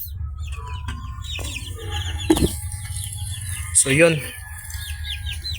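Chickens kept for fertile eggs cluck and squawk close by, with a few sharp calls rising over a low background hum while someone speaks briefly.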